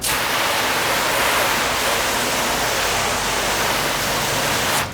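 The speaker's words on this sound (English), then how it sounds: "let's rinse it, see where we're at here" A water spray rinses a car panel coated with Soft99 Fusso Coat and Collinite 845, producing a loud, steady hiss of spray that stops abruptly at the end.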